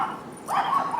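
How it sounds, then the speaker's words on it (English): Small dogs or puppies yipping and whimpering outdoors near a home, a short burst of high, excited yelps in the second half after a quieter start. "there goes my puppies."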